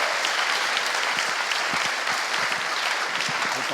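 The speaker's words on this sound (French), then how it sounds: "je vous remercie de bien les applaudir pour lancer cette table ronde" A seated audience applauds steadily at a forum panel discussion on energy, dense clapping from many hands holding an even level throughout with no speech over it.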